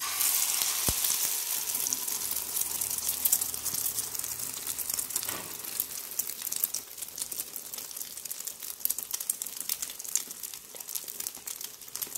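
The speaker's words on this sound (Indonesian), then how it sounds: "Nah, ini udah panas ya, minyaknya udah panas, mulai kita masukkan" Egg mixture for a moringa omelette hitting hot oil in a pan, a steady loud sizzle and crackle that settles into continuous frying with sharp pops throughout.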